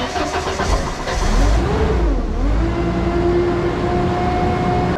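A JLG 80 HX boom lift's engine idles steadily while warming up, a loud continuous rumble with a brief swell in revving near the start before settling back to an even drone.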